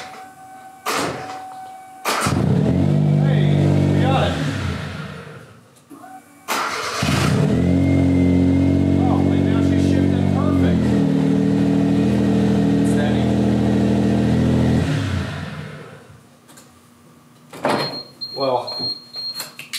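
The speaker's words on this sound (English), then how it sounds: "put it in second gear and just bump start it" A Suzuki Cappuccino, recovered after a flood, is bump started in second gear: the engine catches with a loud, sustained run, then revs hard again after a short pause, close by. A voice speaks briefly near the end.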